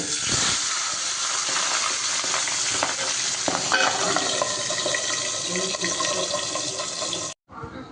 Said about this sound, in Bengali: এবার মাথাগুলো ভেজে নেব